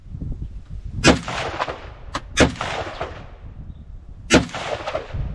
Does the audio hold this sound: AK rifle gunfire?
yes